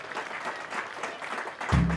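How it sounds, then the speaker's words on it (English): Crowd applause along a St Patrick's Day parade route, a fairly distant, steady clatter of clapping hands, joined near the end by a low rumbling tone as the band moves off. "put your hands together for a big applause as they move off again."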